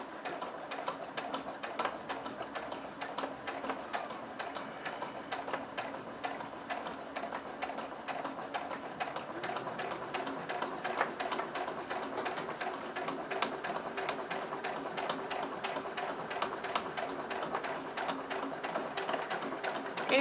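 A sewing machine stitches a straight topstitch seam on fabric for a small pyramid pouch, running at a slow, steady pace with a continuous fine mechanical ticking throughout.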